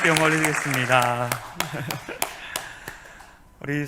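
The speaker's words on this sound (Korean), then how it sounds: "박수로 하나님께 영광을 드리겠습니다" Church congregation in Korean Sunday worship clapping, a series of crisp separate claps scattered at a moderate pace beneath and after a speaking voice.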